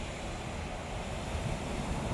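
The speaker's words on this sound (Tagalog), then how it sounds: "Malakas yung alon." Strong ocean surf rolls onto a beach in the UAE as a steady, dense roar, with wind buffeting the microphone throughout and no voices.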